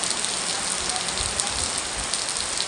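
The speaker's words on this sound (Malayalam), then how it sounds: "പക്ഷെ നല്ല മഴയുണ്ട്." Heavy monsoon rain pours down in Alappuzha, a dense, loud, unbroken hiss of rain on surfaces with no voices over it.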